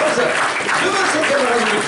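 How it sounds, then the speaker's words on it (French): A crowd claps loudly and continuously for a children's podium ceremony at a sports event, a dense wash of applause with no pauses. "on peut applaudir très fort donc le podium des 9-10 ans avec Gabin Praret"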